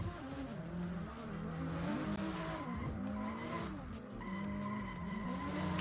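Drift cars in a virtual competition at Sequoia Park launch together, engines revving hard under sustained, wavering tire squeal, loud and close, with no talk.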